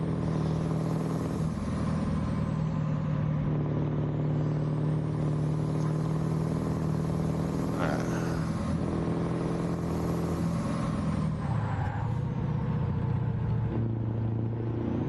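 A deep diesel truck engine in American Truck Simulator rumbles continuously, its pitch swelling and settling as it revs, with no voices over it.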